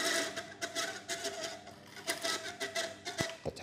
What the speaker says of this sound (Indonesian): kipas angin ini suaranya kasar ya.